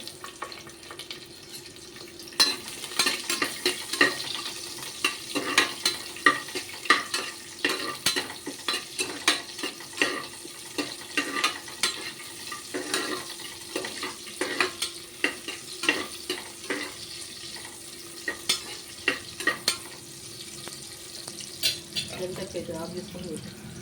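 Chopped onions hiss and crackle in hot oil as a spoon stirs them through goat head curry in a home kitchen, with repeated scraping strokes in an uneven rhythm and a brief splash of water near the end.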